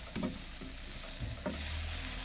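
A seaweed fulvescens pancake sizzles in a frying pan with a steady, quiet hiss and a few soft scraping stirs, no voices present.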